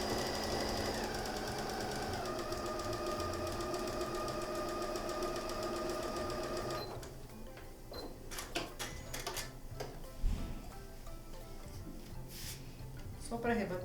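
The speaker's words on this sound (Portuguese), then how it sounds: "Quando levar para a máquina, deixa um ponto maior um pouquinho, vou deixar com 3 e passo essa costura" A domestic sewing machine runs steadily for about seven seconds, stitching a seam on a baby's multipurpose toiletry bag, then stops and leaves quieter handling noises and a soft thump. A voice talks over it.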